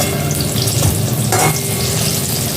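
Eggplant fritters (beguni) fry in hot oil in a wok with a loud, continuous close sizzle and a brief stirring scrape partway through.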